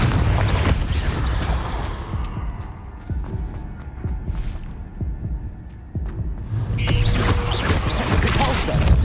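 The Confringo explosive spell is cast in Hogwarts Legacy, giving deep booming blasts and throbbing rumbles. A loud burst comes first and another heavy surge follows later, alone without talk.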